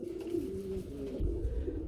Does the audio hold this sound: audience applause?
no